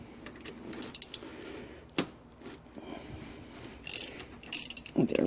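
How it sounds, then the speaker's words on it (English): A ratchet loosening bolts on a 1984 Porsche 944 NA gearbox during transmission removal: clusters of quick metallic clicking and clanks, close by, with brief pauses between bursts. "Get the breaker bar hooked up and get this guy loosened up a bit. Put it on the regular ratchet."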